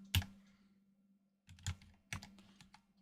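A computer keyboard types a file name in a few sparse bursts of clicky keystrokes over a low steady hum, with quiet pauses between them.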